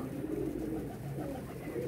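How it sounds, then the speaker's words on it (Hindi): Several pigeons cooing together, all released from their ties in a loft, with low throaty coos overlapping steadily at close range and no talk. "खुले हुए कबूतर हैं सब के सब, जितने भी हैं।"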